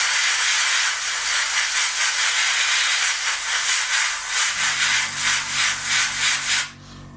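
Steady, close airbrush hiss of red paint spraying onto a 1/32 scale Red Arrows Hawk model kit runs for several seconds, then cuts off abruptly.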